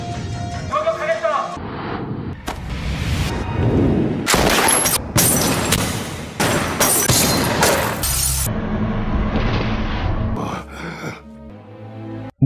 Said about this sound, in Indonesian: Mereka benar melepaskan tembakan.